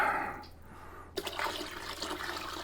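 Lamb stock is poured through cheesecloth, giving a close, splashy liquid rush that pauses and then resumes as a softer, continuous trickle and drip.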